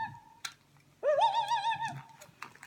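A person imitates a loon's call, giving one long, wavering, warbled tone that rises and holds for about a second, alone and close, with faint room noise and a few soft clicks around it.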